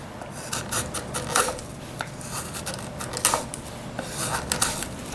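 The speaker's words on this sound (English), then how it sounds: "Alright, time for a test cut. Got a little bit of cedar here." A tuned Japanese trowel chisel pares through cedar in a test cut, giving a series of short dry scraping and rasping strokes, close and clear, with brief pauses between them.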